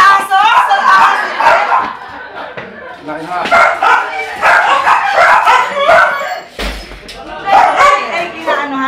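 A dog barks, yips and howls repeatedly, loud and close, in bursts across the whole stretch, with people's voices mixed in around the calls.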